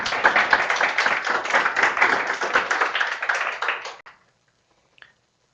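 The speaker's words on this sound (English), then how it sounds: "You can applaud again." An audience claps after a talk on air pollution health effects, the dense applause fairly close and lively for about four seconds before stopping abruptly, leaving near silence with one faint sound.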